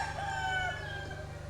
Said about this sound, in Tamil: எல்லா கோழி இப்போ தான் கற்றுது, மணி எவ்வளோ அது.